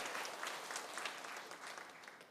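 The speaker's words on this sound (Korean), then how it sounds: "크게 축복의 박수 해주시기 바랍니다" Warm applause from a Presbyterian church congregation at a Sunday service, blessing new catechumens; dense, continuous clapping at a moderate level, slightly fading toward the end.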